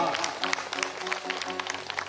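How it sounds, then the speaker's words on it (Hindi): An audience at a Shakti Kalash Poojan gathering claps to welcome a guest, with irregular, fairly close clapping running under someone speaking over it. "जोरदार ताली से स्वागत करें"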